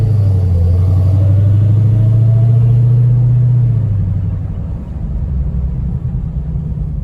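A Dodge Challenger Hellcat Redeye Widebody being driven, its engine giving a loud, deep, steady drone that eases off partway through and settles into a lower rumble.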